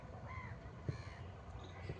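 Crows caw outdoors on a breezy spring day, a couple of harsh calls rising over steady wind and low background rumble, fairly faint and at a distance.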